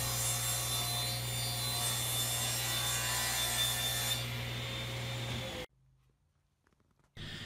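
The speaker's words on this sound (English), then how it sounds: "I did have to cut into some new plywood" A saw cuts steadily through new plywood in a workshop, giving a loud continuous rasping drone with a low hum, then stopping abruptly into near silence before a short burst of cutting resumes at the end.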